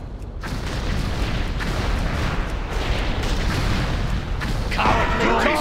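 Ship cannons firing during a Horde attack on an Ironforge dwarf's vessel in World of Warcraft, heavy booms and blasts piling into a loud, continuous rumble of battle.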